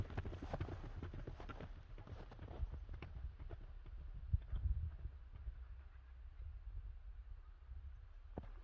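A racing horse gallops, its hooves drumming in a quick, rhythmic clip-clop that sounds faint and fairly distant, running steadily through the whole stretch.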